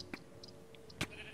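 Sheep in the Minecraft video game bleat twice in short, clipped calls, one right after the other, with soft background game ambience and no talking.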